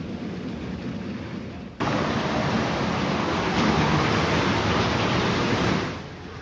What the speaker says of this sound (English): The water channels into the flume, where the miller could regulate the flow to the water wheel